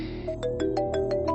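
A phone ringtone signals an incoming call, a bright repeating electronic melody of evenly spaced tones ringing loudly and close over a low steady background hum, with no voices.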